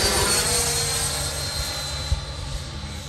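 Freewing F-5 80mm high-performance RC jet with gear down passing on a gear check, a steady broad whooshing engine roar held loud throughout with a brief bump near the end, no voices.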